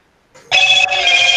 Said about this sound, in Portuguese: Tá tocando o telefone.